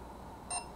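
A SECRUI wireless doorbell chime gives a single short electronic beep while it pairs. The beep is bright and clear and rises briefly above a quiet background.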